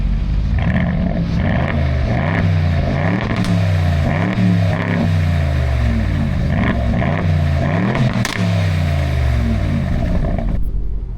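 A car engine warms up and is blipped repeatedly, its revs rising and falling in a loud, close, rhythmic series of surges over a continuous idle.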